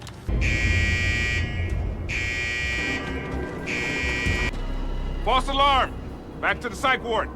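An alarm buzzer sounds in three long, evenly spaced blasts, loud and harsh, followed by people talking.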